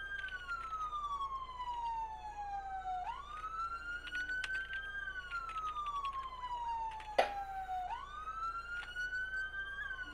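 A police car siren in a video game wails, sweeping slowly up and down in repeated cycles, loud and steady throughout, with a brief sharp click partway through and no talking.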